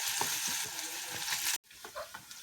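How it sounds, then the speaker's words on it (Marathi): Onion and curry leaves fry in a pan with a steady, close sizzle and occasional stirring scrapes, broken by a brief cut to near silence before the frying resumes more quietly. "थोडंसं कढीपत्ता टाकू याच्यामध्ये आणि मग कांदा परतवून घेऊ त्याच्यातच"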